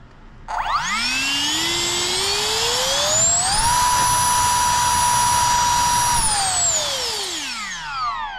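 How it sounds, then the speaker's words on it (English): A PowerFun 50mm EDF ducted fan motor on a 4S battery spools up into a loud, rising high-pitched whine, holds at full speed for a few seconds, then winds down, close and alone. "this is going to be test number 2 with the PowerFun 50mm EDF on a 4S"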